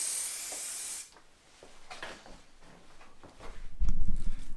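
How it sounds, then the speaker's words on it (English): An aerosol can of contact adhesive sprays in a steady hiss for about a second, applied to the back of Velcro and a board during a Sprinter van build. Quieter handling noises follow, and a low rumble swells near the end. "I'm going to spray the back of the Velcro, spray the back of the board, stick it to it"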